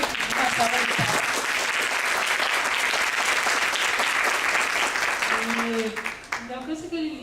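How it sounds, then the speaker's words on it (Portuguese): Dense audience applause at a talk on copyright fills most of the stretch, steady and fairly close, then fades near the end as a voice begins speaking. "Quero agradecer primeiro uma salva de palmas."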